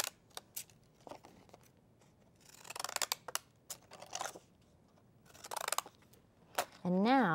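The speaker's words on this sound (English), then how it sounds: "I'm going to use some really funky zigzag scissors" Sharp snipping of zigzag scissors cutting paper in short bursts and longer runs, close up, with brief rustles and a voice at the end.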